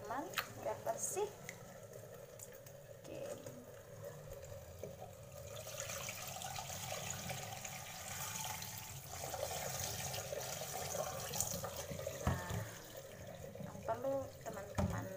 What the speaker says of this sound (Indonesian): Kita remas dulu ya teman-teman biar bersih.